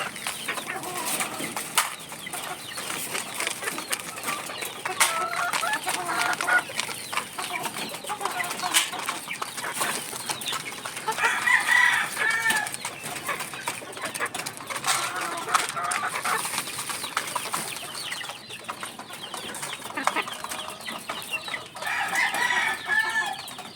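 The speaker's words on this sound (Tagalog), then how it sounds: "At ito naman ang aming mga brood hen. Ayan, gutom na gutom na." Hungry brood hens at feeding time on a gamefowl breeding farm, a busy chorus of clucking with an occasional rooster crow, steady throughout with some wing flapping.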